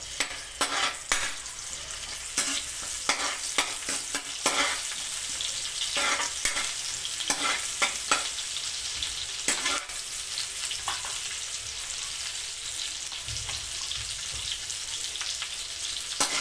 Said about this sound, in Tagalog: igigisa muna natin yung chicken. Lalagay tayo ng sibuyas.